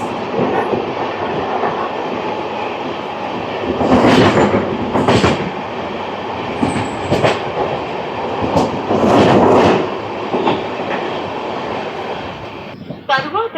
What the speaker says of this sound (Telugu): మనకు ఎదురుగా వచ్చేస్తుంది కేరళ సంపర్క్రాంతి ఎక్స్ప్రెస్,